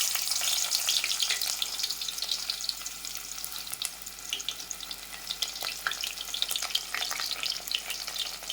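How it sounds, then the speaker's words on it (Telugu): Finely chopped onions fry in a pan for Andhra-style upma, giving a dense, steady crackling sizzle with small popping spatters, close and unbroken, with nobody talking. "ఇందులో సన్నగా తరిగిన ఆనియన్స్ వేసేస్తున్నాను."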